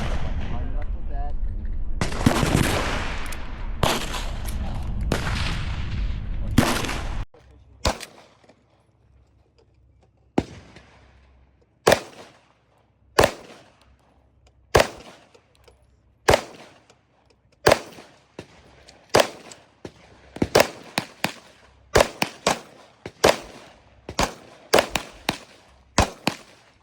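Gunfire at an outdoor shooting range: after a stretch of loud wind-like noise, sharp isolated shots ring out one after another at irregular intervals, some near and loud, others fainter, with no talk.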